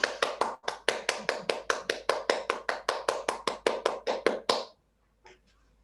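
Rhythmic, steady clapping of a small group at a community talk with families and teachers, about twenty even beats close by, stopping abruptly, then a few faint scattered taps.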